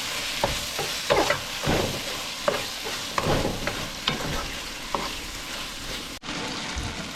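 Onion, garlic and chili sizzle steadily in a hot pan while a spoon stirs through them, scraping in irregular strokes up close, loud and continuous, with no talking.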